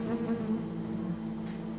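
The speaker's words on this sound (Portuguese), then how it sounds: "Estou aqui olhando para um bando de abelhas" Steady, continuous buzzing of a swarm of bees humming together, close and even in loudness throughout, with no voices.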